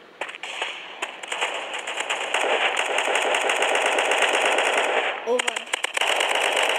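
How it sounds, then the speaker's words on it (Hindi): Rapid, sustained gunfire in a mobile shooter game, a dense crackling barrage that runs almost unbroken for several seconds, with a brief pause before more shots, while someone talks over it. "ये छुपके से ना शॉर्ट गन से अटैक कर रहे हैं"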